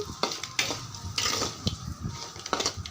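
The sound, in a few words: buttermilk chillies frying in tempering with fenugreek and garlic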